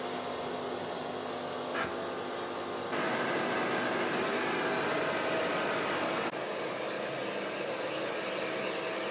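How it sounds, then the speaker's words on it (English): A carpet cleaner machine works over a rug indoors, giving a steady, loud broadband whooshing drone like a vacuum motor that shifts in intensity a few times and runs continuously without speech. "Getting the rug cleaned with carpet cleaner."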